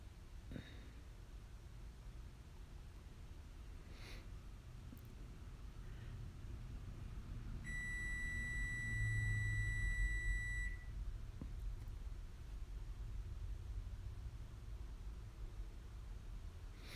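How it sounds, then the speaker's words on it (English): A kitchen baking timer beeps for about three seconds in a steady high electronic tone, heard moderately close over a quiet room hum with no speech. "the timer went off"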